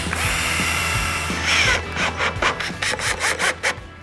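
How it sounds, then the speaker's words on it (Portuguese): A power drill bores a hole into a 14 by 25 cm piece of wood and drives a screw while building the base of a DIY tool organizer cart, a steady whirring grind giving way to short pulsed bursts as the screw is driven. "fazer o furo e parafusar"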